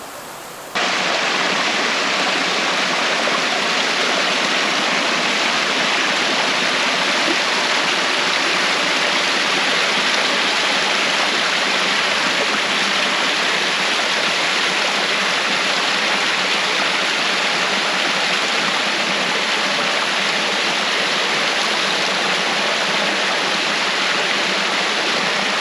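A forest stream in Idukki, with cold water flowing loud and close. It is a dense, unbroken rushing roar that holds steady from start to finish with no voices.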